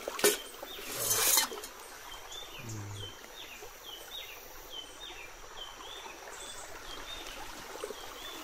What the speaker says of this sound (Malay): Aliran air ini dia.